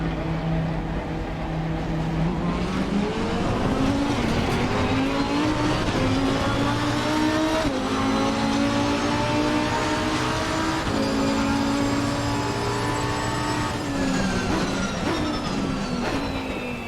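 A race car in Assetto Corsa Competizione drives through heavy rain, its engine droning loud and steady with rising and falling pitch as it shifts gears, under a constant hiss of spray, with no talking.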